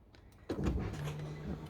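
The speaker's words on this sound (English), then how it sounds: "first turn on the ignition by pressing the start button once" Ignition of a BMW M car switched on with a single press of the start button, engine not started, followed by a sudden electrical whir and a steady low hum from the car's systems coming alive.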